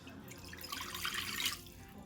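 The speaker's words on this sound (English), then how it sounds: "We're going to add in 1 cup of water," Water poured from a cup into a large pot over high heat for churros dough, a soft splashing trickle that swells midway and then tapers, quiet and close.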